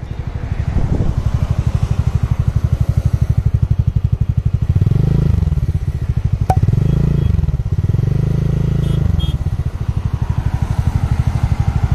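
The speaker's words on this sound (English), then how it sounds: "Let's listen to the exhaust note of this scooter." A TVS Ntorq 125 Race XP scooter's exhaust note, heard close and loud as a steady, rapid putter from the small single-cylinder engine, with a few short throttle blips swelling over the idle and no talking.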